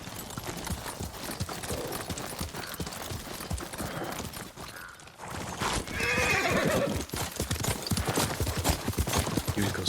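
In the video game Ghost of Tsushima, a horse gives a loud neigh partway through over a steady clatter of hooves and busy game sounds.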